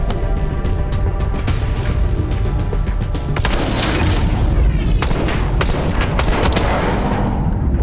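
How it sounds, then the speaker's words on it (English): Several loud, heavy blasts and booms from a C4 detonation in Call of Duty, layered over continuous gunfire and battle noise, with a big burst of debris-laden rumble in the middle. "I hit him with the C4"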